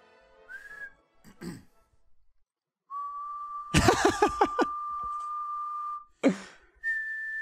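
A person whistles close by: a short opening note, then long sustained steady tones, with brief breathy and mouth noises in the gaps between.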